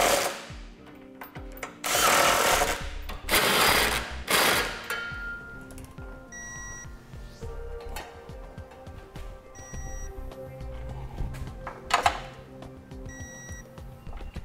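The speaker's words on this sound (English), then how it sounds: "we'll go ahead and tighten it down and then torque it as specified in the instructions." Tightening trailer hitch hardware on a 2007 Honda Odyssey: bursts of a whirring power tool, several loud runs of a few seconds each, alongside short clanks and a ringing beeping tone, close with no speech.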